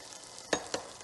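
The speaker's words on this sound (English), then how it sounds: "add the green chili, add ginger and stir it a little bit" Green chili and ginger sizzling in hot oil in a pan for curd rice, with a steady fry hiss broken by two sharp scraping stirs of a spoon.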